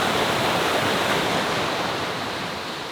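Continuous close rush of small jungle waterfalls in Bali, a full, even roar of pouring water that eases slightly toward the end, with no one speaking.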